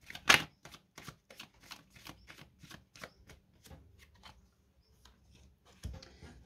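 Tarot cards are shuffled during a card reading in a quick close run of soft papery riffles and flicks, with a louder burst at the start and a final flutter, and no voices.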